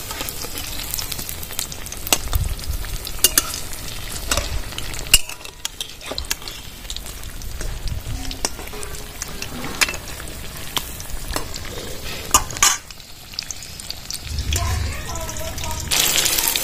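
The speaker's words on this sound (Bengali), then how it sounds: "এরকম কড়া পাকে চাল কুমড়ো চাক ভাজিগুলো ভেজে নিতে হবে" Ash gourd slices deep fry in hot oil, giving a continuous close sizzle with occasional utensil clinks and brief pauses, while a voice talks over it.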